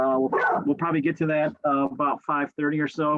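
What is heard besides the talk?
dog barking and whimpering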